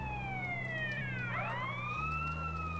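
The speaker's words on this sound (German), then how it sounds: "Eigentlich sollte ich die Sirene aktivieren" A wailing ambulance siren switched on in the video game GTA San Andreas, sweeping down and then rising again in a continuous tone over a steady low engine hum.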